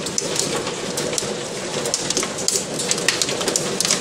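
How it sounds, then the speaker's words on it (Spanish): Large hailstones fall hard and steadily, a dense, loud patter and drumming with sharper cracks scattered through it, continuous throughout. "Pero es que son unas piedras enormes, vean. Vean cómo cae."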